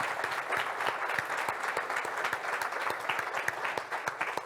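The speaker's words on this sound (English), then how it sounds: "I'm also going to take that applause as an overall applause" Steady applause from an audience at a regional State of the Region address, many hands clapping continuously with distinct sharp claps throughout, moderately loud and with no speech over it.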